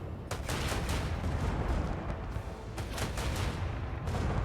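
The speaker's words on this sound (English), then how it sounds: "Barrage type flak shot." Dense, continuous barrage-type flak gunfire in a grimdark space video game, a rapid wall of overlapping bursts and booms that holds loud and steady throughout with no pauses.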